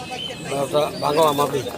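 Pigeons coo at the weekly pigeon market in Fatullah, Narayanganj, soft throaty calls rising and falling briefly amid nearby human voices and general market hubbub.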